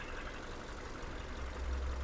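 Subaru Forester engine idling under the open hood, a steady low rumble with a slight rise in loudness toward the end, heard alone without talk.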